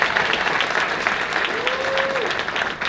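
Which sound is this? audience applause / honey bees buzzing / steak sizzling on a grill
audience applause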